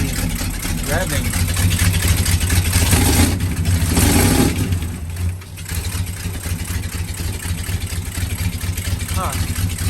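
The engine of a 1971 Kayot boat, suspected of a carburetor problem, revs hard and rough with a loud, continuous throbbing drone that dips briefly before settling back to a steady roar, with voices faintly mixed in.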